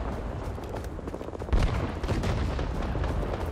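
Gunfire in a first-person war video game set at Long Tan, a continuous fusillade of distant rifle and machine-gun shots with a heavier burst midway, muffled and alone.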